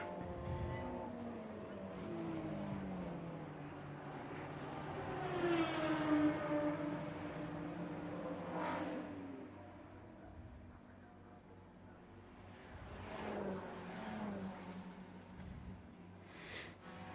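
Lotus Cup race cars at Imola give a faint, steady engine drone with swelling and fading passes as they run down toward Acqua Minerale.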